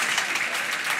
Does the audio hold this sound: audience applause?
yes